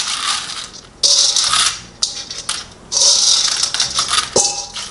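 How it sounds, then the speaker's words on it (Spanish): Dried beans pour into a clay pot for cooking, clattering and rattling in bursts of hard little impacts that come in three or four loud pours. "Así que vamos a agregar los frijolitos"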